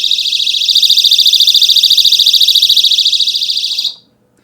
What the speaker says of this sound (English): that's what we call the rape alarm or something like that